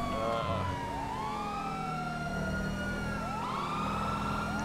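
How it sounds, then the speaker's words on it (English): Police siren from a unit in GTA V, loud and continuous for the whole stretch, with sweeping wail tones rising and falling over a steady engine rumble. "Lights and sirens."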